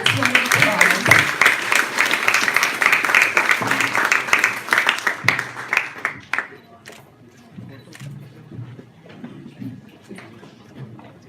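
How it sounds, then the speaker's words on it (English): An audience applauds His Excellency Dr. Abdullah Abdullah at the close of a public discussion, a dense burst of clapping for about six seconds that then thins to scattered claps under low chatter. "please give His Excellency the biggest round of applause"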